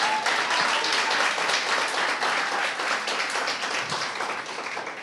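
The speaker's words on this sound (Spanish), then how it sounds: "Un aplauso para ella, por favor." Close, loud applause from a live studio audience, a thick wash of many hands clapping at once that stays strong for the whole stretch and tapers only slightly toward the end.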